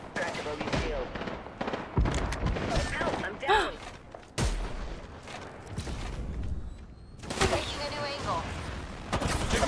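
Rapid bursts of gunfire in Apex Legends, sharp repeated shots and thuds mixed with in-game character voice lines and other game sounds, loud and close.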